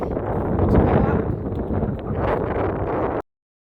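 Gusty wind blasts across an exposed mountain summit on Mt Somers in New Zealand, a loud broadband roar buffeting the microphone in uneven surges before cutting off abruptly.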